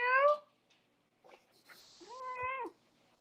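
A pet cat meows twice indoors, a bright drawn-out call followed after a pause by a second longer, steady meow, both close and clear against a quiet room.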